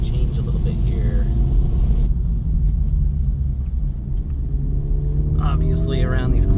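Wet road noise and engine rumble from a 2024 Acura Integra Type S driving through rain, a steady close hiss and drone lasting throughout with no talk.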